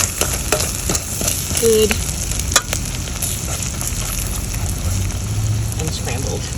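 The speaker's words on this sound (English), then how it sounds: "my egg has been cooking for maybe a minute to a minute and a half" An egg frying in a pan for fried rice, with steady close sizzling and crackle throughout, a few utensil taps, and a brief spoken word over the frying.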